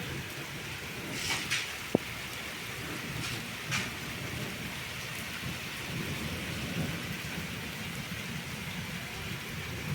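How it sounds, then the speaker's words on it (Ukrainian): Heavy rain pours steadily in mountains while thunder rumbles low and continuously beneath it, with a faint crack or two standing out. "почався дощ гір не видно, гримить не перестає вже, напевне, годину"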